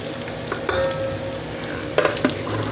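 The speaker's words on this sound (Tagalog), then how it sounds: "At sunod na natin ang sibuyas. Sabay na natin yung sili." Chopped onion and chili frying in a hot pan for chicken-feet adobo, with a steady sizzle and a few sharp spoon scrapes as the mixture is stirred, close by and with no talking.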